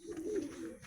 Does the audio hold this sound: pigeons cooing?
yes